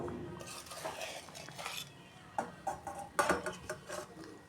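A ladle scrapes and clinks against a pan as pabda fish curry is poured into a serving dish, making soft irregular metallic taps and scraping in a quiet kitchen.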